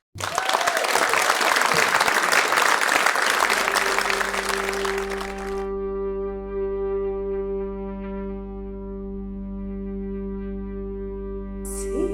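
A concert audience claps loudly and densely for about five seconds, welcoming a Norwegian group that performs medieval ballads on a December evening. The clapping then fades as sustained, droning instrumental tones take over and ring steadily to the end.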